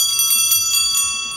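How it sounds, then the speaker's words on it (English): Polished brass sleigh bells, the kind once mounted on a carriage or sleigh, jingle as they are handled, giving bright rhythmic chiming shakes in quick succession, close and clear with no talking. "sleigh bells. It would have been mounted on a carriage or sleigh."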